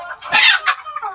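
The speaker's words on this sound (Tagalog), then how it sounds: "At ayan, at maraming inahin to." Several hens cluck close by in a busy, overlapping burst, with sharper squawks rising above the steady chatter of the flock.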